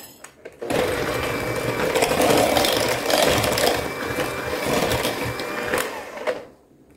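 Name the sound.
electric mixer mixing zucchini bread batter, sounding odd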